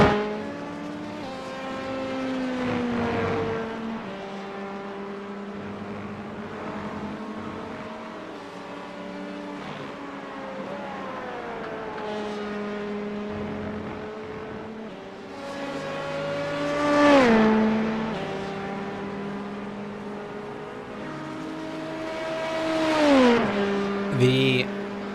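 A prototype LMP2 race car in a sim racing league event at Silverstone drones steadily through the corners, its engine pitch sweeping down and up again, under continuous commentator talk.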